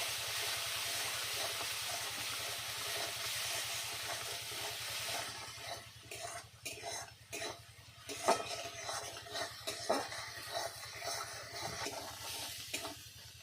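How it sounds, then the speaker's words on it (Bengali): A spice paste with turmeric and chili powder is stir-fried in a pan for a Bengali pabda fish curry. It gives a steady hiss and sizzle at first, then irregular scraping stirs and clatter against the pan. "লঙ্কা গুঁড়ো দিয়ে এই মশলাটাকে ভালো করে কষিয়ে নেবো"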